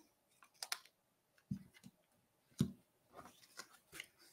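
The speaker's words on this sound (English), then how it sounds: "We're going to grab our snips. We're going to turn this over and we're going to trim off the excess." Snips trimming the excess edge of paper card for a handmade Christmas card, a few sharp close cutting snaps and clicks spaced irregularly with quiet gaps between them.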